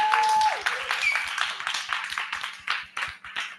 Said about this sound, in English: a round of applause to Dean Hutton